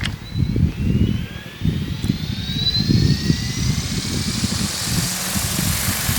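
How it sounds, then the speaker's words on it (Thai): An ALZRC Devil X380 RC helicopter flying with a K-Bar unit set up for 3D flight, its motor and rotor whine rising steadily in pitch over a low rumble, loud and fairly close throughout. "เอาบินสวยๆ นะ ให้ท่านผู้ชมเขาดูหน่อย นานๆจะได้ทำคลิปเฮลิคอปเตอร์บ้าง"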